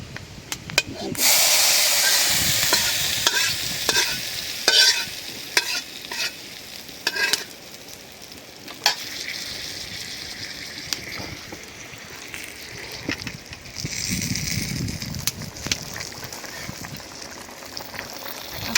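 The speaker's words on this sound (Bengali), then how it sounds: "তেলটা তো ভাজাই, মাছে ভাজা হয়ে গেছে বুঝলে" Rohu fish fries in hot oil in a home kitchen, a loud hissing sizzle at first that settles into quieter crackling broken by sharp scraping stirs, with a swell of sizzle near the end.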